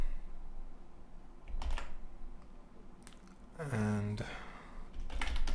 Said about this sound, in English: And I type in some text here, so it has some content inside of it